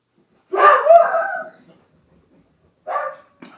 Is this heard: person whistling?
no